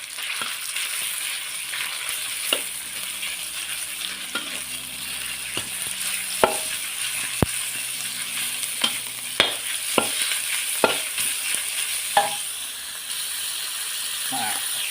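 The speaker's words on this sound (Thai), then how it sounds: "ใส่หมูสับลงไปครับทุกคน ผัดให้หอมนะครับ" Minced pork stir-fried in a pan with pounded garlic for a holy basil stir-fry, a continuous close sizzle punctuated by repeated sharp scrapes and knocks of a spatula against the pan, with occasional faint speech.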